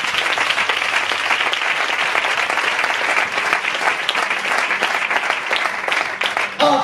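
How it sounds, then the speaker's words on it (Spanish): A church congregation applauds strongly and steadily, a dense wash of clapping holding at an even level throughout, with a voice briefly rising at the very end. "Fuerte ese aplauso para el Señor."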